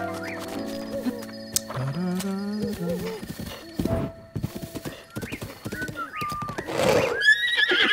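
A horse in a Zelda video game whinnies in several loud, pitch-bending neighs over a steady clip-clop of hooves, the galloping rhythm continuing throughout with no speech.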